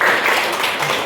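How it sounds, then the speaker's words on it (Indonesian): Students in a classroom during a matrix-inverse math lesson clap for their classmates, a loud, brief, dense spatter of applause filling the whole moment. "Tepuk tangan dulu untuk kalian"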